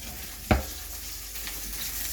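Onions added to a pan with sausages give a sharp thud and clatter, then a steady close sizzle with light stirring scrapes continuing after it.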